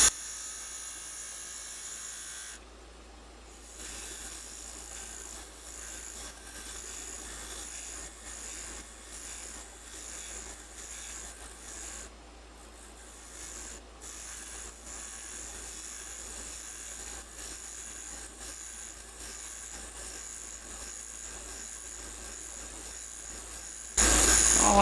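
A wood lathe spins a chess bishop while a parting tool shaves it, giving a steady whining hum with scraping and rubbing over it. Brief quieter dips come when the tool lifts away, and a loud burst closes the sound.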